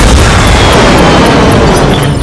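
A heavy mech cannon firing in MechWarrior 5, one loud, booming blast that fills the whole moment, close and dominant with no talk over it.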